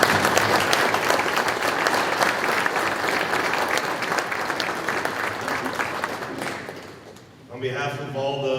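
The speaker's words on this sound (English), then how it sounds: "please give them a round of applause" A room full of members at a 2024 co-op annual meeting applauds loudly and continuously for about seven seconds; the clapping then fades out and a voice starts speaking.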